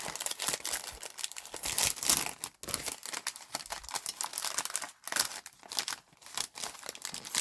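Small dollar-store butterfly embellishments are pulled from a crinkly plastic package, with close, irregular bursts of crackling and rustling broken by short pauses.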